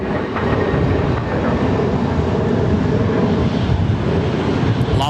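An airliner departs Sydney Airport's runway 34 left, producing a loud, steady, broadband roar that holds unbroken for the whole stretch, with no talking.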